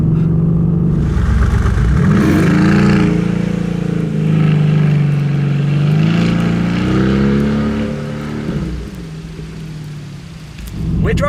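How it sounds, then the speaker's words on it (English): A Mercedes-AMG GT R drives slowly uphill at around 40 km/h, its engine a low, steady rumble that rises and falls in pitch with throttle changes, close and continuous, with no speech. "We're driving uphill, keeping the speed down, 40 kilometers an hour or so"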